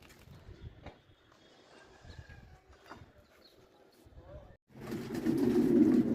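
Pigeons coo softly at a small pigeon farm in Damietta, with scattered calls and rustling, then a louder burst of fluttering and cooing at the end.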